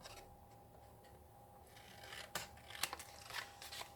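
Scissors snip the corners off a card while making a loyalty-card holder: a quiet stretch, then a few crisp, close cuts in quick succession.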